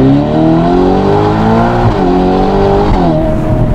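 A twin-turbocharged 4-liter V8 revs loud and close through its exhaust, a deep rich roar climbing in pitch with smooth surges and a brief dip near the end.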